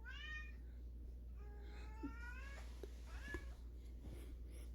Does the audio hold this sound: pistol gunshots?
no